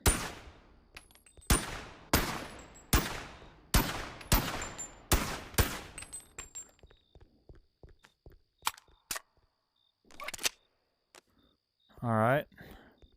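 Gunfire in the VR video game Bonelab, a rapid series of loud, sharp gunshots in a regular rhythm, then scattered quieter clicks and knocks, with a short voiced sound near the end.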